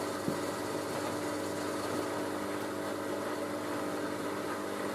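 A Miele W562 Prestige Plus 6 washing machine on a 95°C cottons whites cycle, its drum turning in a gentle spin with a steady low motor hum and a constant whirring wash of noise, one small knock near the start.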